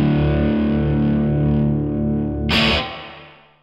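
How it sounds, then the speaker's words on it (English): An electric guitar cabinet miked with a Lewitt LCT 440 Pure plays a loud, distorted sustained chord with effects, then a sharp strummed hit near the end that rings out and fades. "That is what the LCT 440 Pure sounds like miking a cabinet."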